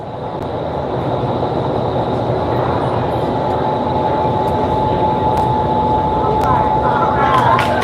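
Indoor skydiving wind tunnel running at 73% power, about 113 miles per hour, a loud, steady roaring rush of airflow with a faint thin whine, constant throughout, with people talking over it.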